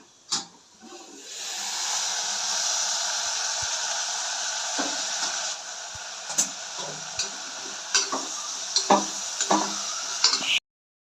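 Raw papaya curry with coconut is stirred in a pan, a steady sizzle broken by soft scraping and sharp ticks of the spoon against the pan near the end.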